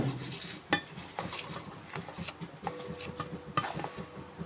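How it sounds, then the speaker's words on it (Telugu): Whole coriander seeds, cumin and dried red chillies dry-roasting in a pan over a low flame, heard as faint, steady scraping and stirring with light metallic clinks scattered throughout and no talking. "సన్న మంట మీద సిమ్లో పెట్టుకొని కొంచెం వేయించుకోవాలి"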